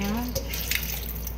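Papaya being rinsed in water to wash off salt, with soft splashing and dripping under a steady background hum, close and fairly quiet.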